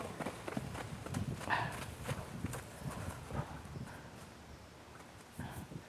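A horse named Sadie moves about on a farm during farrier work, her hooves giving a run of fairly close clip-clop beats amid faint background sound.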